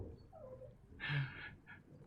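Puppies howling in the video game Hades, a brief rising whine followed by a louder burst of yips and howls near the middle, then a short fainter cry, over a low background drone.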